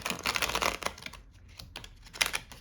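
A deck of tarot cards is riffled and shuffled by hand, giving quick, close bursts of papery flutter and crisp snaps separated by brief pauses, fairly faint and without talk.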